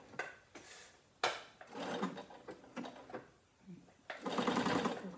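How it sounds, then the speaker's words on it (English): A sewing machine runs in short bursts stitching fabric forward and back, a close rapid mechanical chatter with clicks and pauses between runs. "And then I'm gonna forward and back stitch that in."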